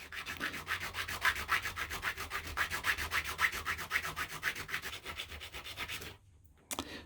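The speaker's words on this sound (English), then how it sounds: "I am going to file across all 4 of these until I get a very slight groove cut in here" A flat metal file rasps back and forth across four wires to cut a shallow groove, giving rapid, even strokes close up before stopping near the end.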